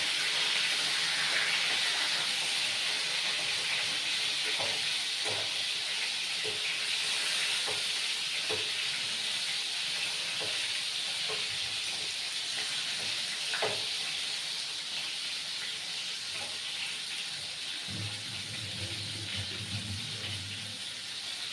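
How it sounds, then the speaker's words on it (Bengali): Stuffed pointed gourds (potol dolma) frying in oil in a pan, a loud, steady sizzle with small pops and occasional stirring clicks, close by and continuous, with no talking. "এইভাবে পটলগুলোকে একে একে ভাজতে হবে"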